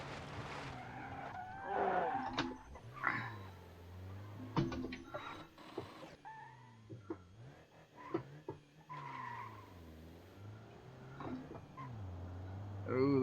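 A Nissan Qashqai laboring up hills in BeamNG.drive, its engine droning and straining with irregular surges, tire squeals and gear changes, the sound fluctuating in pitch and level throughout.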